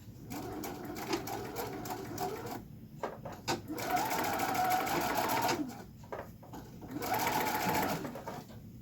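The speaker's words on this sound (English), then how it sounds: "I've got my machine set to a medium to long stitch length straight stitch, and I'm going to give this a good back stitch." Sewing machine running a medium-to-long straight stitch with back stitching to start a seam joining envelopes to mesh, the motor whirring in bursts that pause and resume, close and steady throughout.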